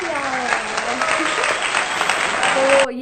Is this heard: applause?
yes